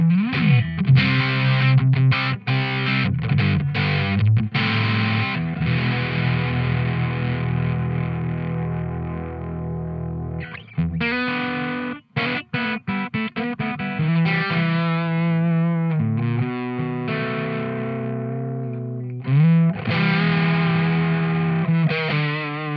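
Electric guitar played through a Mozztronics MD-1 Mew Drive overdrive pedal, giving a gritty, blown-out small-amp distortion; loud sustained chords and riffs with brief pauses, no talk.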